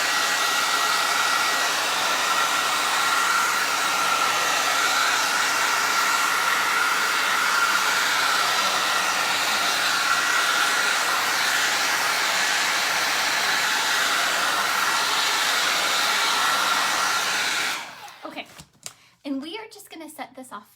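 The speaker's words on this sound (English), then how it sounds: "and I'm going to shoot it with the hair dryer." A hair dryer blows steadily and loudly on a painted dollar store DIY gnome for about seventeen seconds, then cuts off, followed by a few brief handling knocks.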